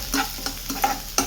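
Onions and coriander are sautéed in a pan, giving a few close, distinct scraping stirs over a low sizzle with no talking.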